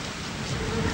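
Steady rain falling on a chilly evening, a dense even hiss that swells slightly toward the end, with no voices over it.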